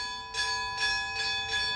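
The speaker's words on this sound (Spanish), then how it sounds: "se han decidido en las fiestas a tocar las campanas" Large church tower bells weighing over 800 kilos ring in Carlet during the town festivities. About four resonant strikes arrive roughly every 0.4 seconds, leaving a steady sustained metallic hum between them, with no voices.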